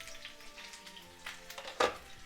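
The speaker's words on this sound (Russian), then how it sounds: "я закрою сковородку крышкой и буду жарить на медленном огне драники" Belarusian potato pancakes with meat frying in a covered pan over low heat, a faint steady sizzle with scattered soft pops and one brief louder crackle near the end, no voices.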